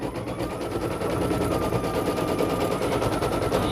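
A single-needle embroidery machine stitches on a child's sweatshirt, a rapid, steady mechanical chatter of needle strikes with a faint motor whine, close and continuous.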